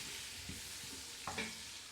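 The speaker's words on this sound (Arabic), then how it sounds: "غادي ندير الزبده تاعي، ندير شويه تاع الزيت، غادي ندير البصله" Onion sizzling in butter and a little oil for a prune tajine, a steady soft frying hiss with a few stirring scrapes and taps as the pieces are moved around the pan.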